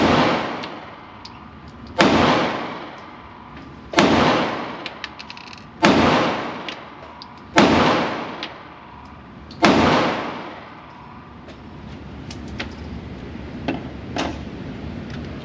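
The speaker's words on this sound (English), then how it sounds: "Which one is he shooting now? It's the Hellcat." A Springfield Hellcat concealed-carry pistol fires five sharp, loud shots spaced about two seconds apart, each with a short ringing tail, on an outdoor range.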